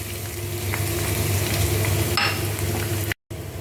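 Garlic sautéing in a hot pan after ginger, cooking for ginataang langka with pork and shrimp paste: a steady, close sizzle with occasional stirring scrapes and a brief clink, then a short cut in the sound near the end.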